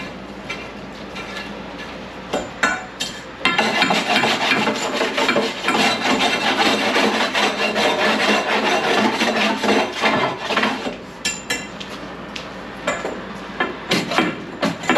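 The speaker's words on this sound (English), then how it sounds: "Now I'm just stirring up the coal," Coal is stirred and scraped inside the firebox of a HeatMaster wood boiler: harsh metallic rubbing and raking runs for several seconds, with scattered knocks and scrapes before and after, heard close.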